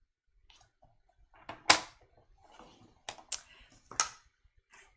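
Paper being scored along a fold line with a tool at a crafting table: a few soft, quick scraping strokes and light taps, faint and close, with quiet pauses between.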